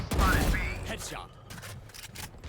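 Valorant gunfire on the Icebox map: a quick burst of sharp shots with mechanical clicks, followed by further faint pops. A player talks over the shooting.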